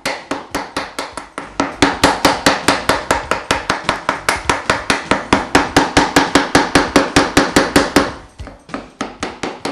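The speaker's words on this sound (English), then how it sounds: "The waste is removed using a chisel slightly smaller than the width of the trench." A chisel chops waste from a housing-joint trench in wood, giving a long, steady run of sharp, evenly spaced strikes, close and loud, with a brief pause near the end before the blows resume.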